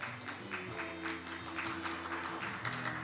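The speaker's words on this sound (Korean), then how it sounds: "강창일 회장님께 다시 한번 뜨거운 박수" An audience at the 2018 Jeju Forum on Korea–Japan relations claps continuously, a dense, even patter of many hands.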